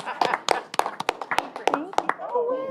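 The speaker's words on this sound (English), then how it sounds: "Oh, let's clap." A few people clap in a school board meeting room, scattered sharp claps spread unevenly over talk that continues throughout, with voices rising toward the end.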